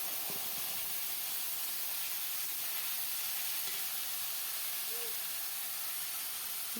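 Bottle gourd curry sizzling in hot oil in a pan makes a steady close hiss that keeps going throughout, with a few faint clinks of a utensil.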